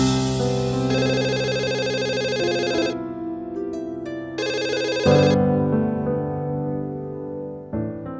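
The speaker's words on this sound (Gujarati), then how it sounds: "ફોન વાગી રહ્યો છે ને?" An electronic telephone ringtone plays loudly and continuously in a melodic, repeating tonal pattern with shifting notes, with no talking over it.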